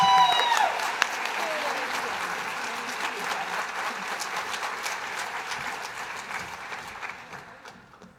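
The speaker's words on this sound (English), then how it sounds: "Let's give Linda one more round of applause" An audience claps at a Colorado IDD Awareness Day awards luncheon. The applause is sustained and fairly close, starts loud after a brief voice, and tapers off gradually over several seconds.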